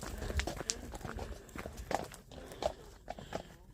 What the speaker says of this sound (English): I've got a little treat for you here. It's the horse and cart.